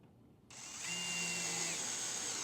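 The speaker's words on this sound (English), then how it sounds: "I'm gonna use drill for this." A power drill driving screws out of a shelf top, whirring steadily and loudly for about two seconds after a brief quieter lead-in, with a rising pitch as the motor spins up.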